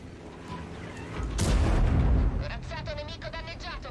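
A tank gun firing in the World of Tanks video game, a single heavy boom with a rumbling tail, followed by mechanical whirring.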